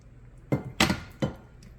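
Shrimp go back into a pan of creamy scampi sauce with three quiet, separate clinks of a utensil against the cookware, close and otherwise still.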